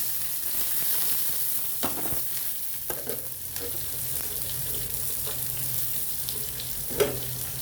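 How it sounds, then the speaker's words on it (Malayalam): Onion, carrot and green chilli fry in a pan, a steady broadband sizzle with occasional stirring scrapes and clinks, close and continuous, no voices. "അപ്പോൾ നമുക്ക് ഈ സവാള ഇതൊക്കെ ഇട്ട് കൊടുക്കാം കേട്ടോ."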